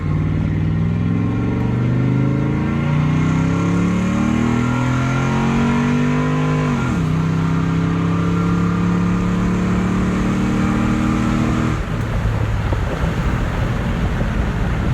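A heavy engine revs steadily, its pitch climbing, dropping sharply, then rising again, loud and close with wind noise over the microphone.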